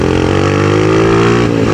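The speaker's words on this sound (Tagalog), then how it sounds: "Naririnig nyo naman kung ano yung tunog ng aking motor." A tuned motorcycle engine runs steadily and close, a continuous even drone with no backfire pops, holding a constant idle-like note throughout.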